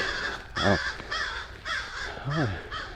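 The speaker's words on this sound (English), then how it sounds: "Those birds are saying hello to me." Several crows caw loudly, harsh calls repeating in pairs and clusters over a steady outdoor background hum, on a lakeside trail at Lake Lavon in Lucas, Texas.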